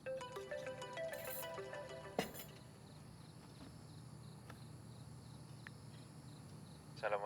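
A phone ringtone plays a repeating melodic tune for about two seconds, then stops, leaving a faint quiet room with a few soft knocks and a brief return of tones at the end.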